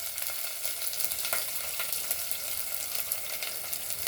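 Dry red chillies, green chillies and garlic sizzle in hot oil as a tempering for a festive tondekaayi palya, a steady, dense crackling fry that runs evenly throughout with no voices.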